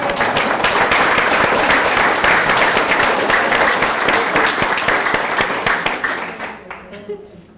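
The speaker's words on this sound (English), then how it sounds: "I think Jim deserves a big clap." Sustained audience applause at a live public conversation event, dense steady clapping that fades out toward the end.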